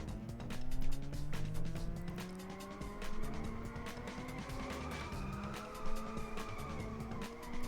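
A car drifting in the racing game Inertial Drift, with tires squealing in long, wavering skids over a droning engine whose pitch rises and falls, fairly faint and continuous.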